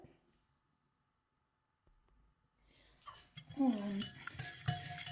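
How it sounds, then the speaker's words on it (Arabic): Harcha batter ingredients with milk are stirred together: after near silence, a spoon clinks and scrapes against the dish in short, close, irregular strokes. "نخلط العناصر كامله حتى كتنسجم مع بعضياتها."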